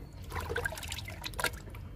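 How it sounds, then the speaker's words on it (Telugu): Thick kitchen waste liquid fertilizer poured onto potted plants, a soft continuous trickle and splash close by, with low background rumble and no talk. "ఇప్పుడు కిచెన్ వేస్ట్ లిక్విడ్ని కూడా పోసేద్దాము."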